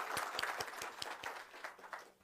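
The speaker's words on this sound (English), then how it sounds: "I think we can give her a round of applause." Audience applause at an inauguration ceremony in Windhoek, Namibia, for a minister; a faint, distant scattering of claps from a room that thins out and fades after about two seconds.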